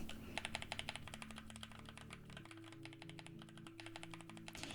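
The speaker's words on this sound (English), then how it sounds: "The switches sound pretty good." Rapid typing on an Asus hotswap mechanical keyboard, a dense run of crisp, close clacks of the switches with no voices.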